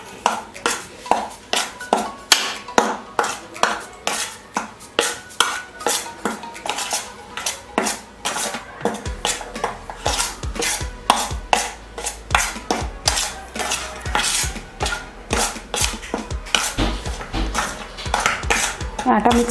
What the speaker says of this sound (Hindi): चावल के और मकई के आटे के दोनों को अच्छी तरह पूरा मिक्स कर देंगे।